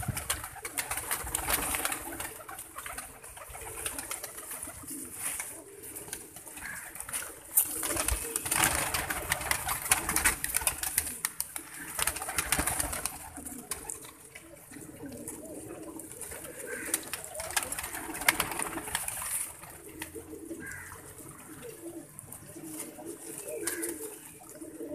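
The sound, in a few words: pigeons cooing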